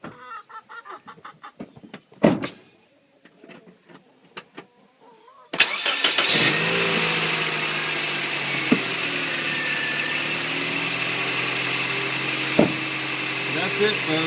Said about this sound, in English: you guys can hear right in the engine bay the sound of the car starting